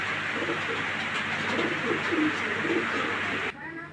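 A white racer pigeon coos in loud, repeated rolling calls close by, over a background hum, until the sound cuts off abruptly near the end.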